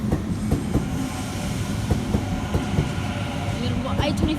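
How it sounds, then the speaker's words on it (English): A train departing a station platform, steady low rumbling with rhythmic clickety-clack of wheels over rail joints and a faint squeal toward the end, continuous and fairly close. "We've got 825 is now departing platform 4."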